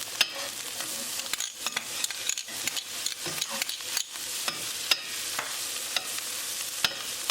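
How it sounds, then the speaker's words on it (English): Green chili frying with onions in a tadka gives a close, continuous sizzle broken by frequent scraping stir strokes and spatula taps, with no speech. "Mix it well and cook green chili along with tadka for 1 minute."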